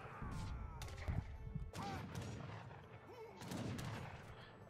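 Cannons and gunfire boom in a battle in the strategy game Age of Empires III, several sharp blasts and crashes scattered over a busy game soundscape, fairly faint overall.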